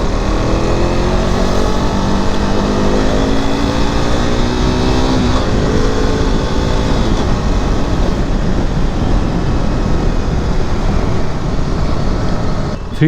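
A KTM 390 Adventure motorcycle engine hums loud and steady while riding, a continuous drone with smoothly shifting pitch that holds for the whole stretch with no pauses.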